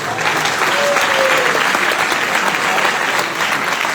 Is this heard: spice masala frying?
no